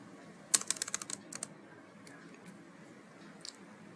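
Java code being typed on a computer keyboard: a quick burst of close, crisp key clicks early on, then sparse scattered taps with a short final flurry, no talking.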